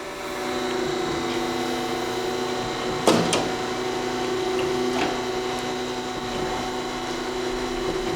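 An 8" x 18" Brown & Sharpe hydraulic surface grinder runs with a steady tonal hum and hiss, marked by a sharp clunk as the saddle reverses and a softer knock a couple of seconds later.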